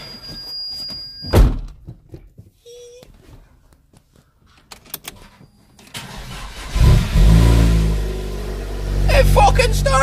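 A Vauxhall Astra Mk4 2.2 Z22SE SRi engine cranks and fires after an ECU kit replacement, catching with a loud burst and settling into a steady idle, preceded by a sharp thunk and ignition clicks.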